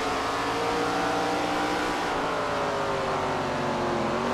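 Race car engine in the SRX video game at Walnut Creek, a continuous loud droning roar with shifting engine whine as it drives through a pass, steady and close with no voices.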